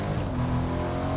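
A car drives in a Fortnite match, its engine revving loudly and continuously with a raspy, strained tone throughout the short stretch and no talk over it.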